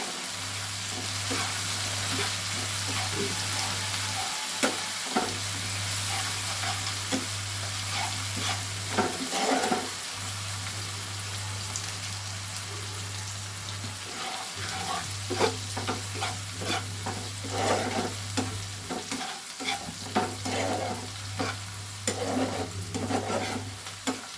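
Low-heat frying of a spice mixture for an egg paneer curry: a steady soft sizzle runs throughout, broken by frequent scraping, clinking stirs of a utensil against the pan, close and alone without talk.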